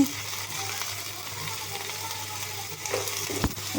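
Soaked chana dal frying in a pan for a ridge gourd curry gives a steady, close, broadband sizzle, with a couple of sharper stirring clinks near the end and no talking.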